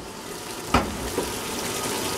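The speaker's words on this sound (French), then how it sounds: "J'ai ouvert le robinet en tout cas" Water runs from an opened tap in a steady close rush, with a sharp knock partway through and a softer bump after, no voices.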